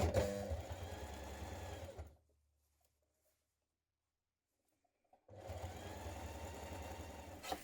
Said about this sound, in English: you're going to stitch around each leg, again with a zigzag stitch